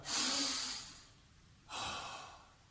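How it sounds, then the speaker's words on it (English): A child doing big deep breaths in a home workout: two long breathy exhales, the first about a second long and the second starting after a short pause, soft and close with no talking. "So now we're going to do our 3 big breaths"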